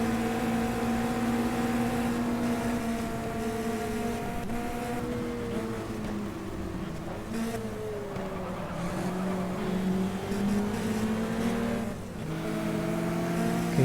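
Race cars on track during a cup race, engines droning and shifting pitch as several cars pass and rev, continuous and fairly loud throughout with no voices.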